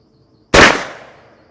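A single loud gunshot from a Henry lever action .410 gauge shotgun, a sharp close blast with a decaying tail, alone and without talk.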